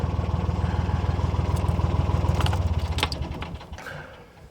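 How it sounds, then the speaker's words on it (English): A narrowboat's diesel engine chugs loudly and steadily, then is switched off at about two and a half seconds, leaving a fading rumble with a few clunks and clicks as it winds down. "I'll switch the engine off now"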